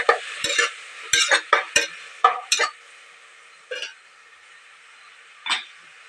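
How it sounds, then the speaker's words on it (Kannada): Green chilies, onion and tomato dropped into a hot pan, with a few sharp sizzling bursts and stirring scrapes early on, then quieter intermittent stirring with one more burst near the end. "ಇವಾಗ ನಾನು ಹಸಿಮೆಣಸಿನ್ಕಾಯಿ, ಈರುಳ್ಳಿ ಮತ್ತು ಟೊಮೊಟೊನ ಹಾಕ್ಕೊಳ್ತಾ ಇದ್ದೀನಿ"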